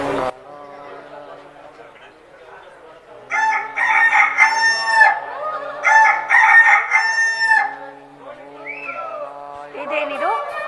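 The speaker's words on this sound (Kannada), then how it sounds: "ಮುಂಗೋಳಿಗಳು ಕೂಗುತ್ತಿರುವವು." Roosters crow at dawn in a stage drama. Two loud, drawn-out crowing bursts ring out close by, with voices heard before and after.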